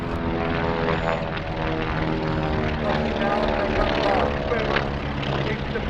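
A propeller aircraft at the Rand Air Show in South Africa gives a loud, continuous buzzing engine drone with a rich harmonic hum, steady and close for the whole stretch, while voices talk underneath.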